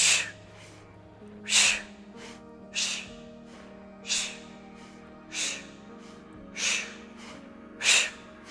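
Deep breaths during a mindfulness exercise: seven evenly spaced, airy inhales and exhales, close and soft, each rising and fading over about a second, over a faint low background hum.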